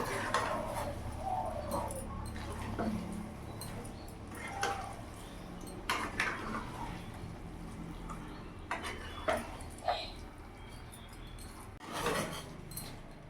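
A spoon scraping and rubbing around a pot as catla fish head curry (murighonto) with ghee is stirred, in irregular rasping strokes with occasional sharper clinks of metal, close up.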